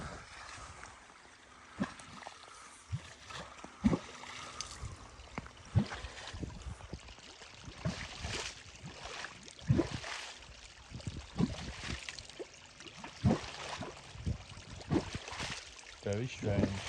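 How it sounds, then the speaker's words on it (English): Water splashing out of an outlet on a marsh, heard as an irregular run of close splashes and gurgling bursts over a constant rushing background. "You can hear that splashing."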